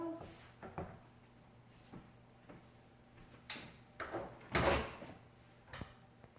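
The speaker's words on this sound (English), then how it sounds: "now we're just gonna open up the lid" Instant Pot lid being opened after the pressure is released, a series of soft clicks and clacks ending in a louder scrape and clunk of the lid, close and fairly quiet.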